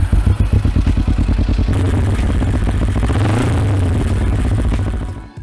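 Yamaha MT-07 motorcycle exhaust, loud and close, a rapid popping idle that swells into a sustained rev before cutting off at the end.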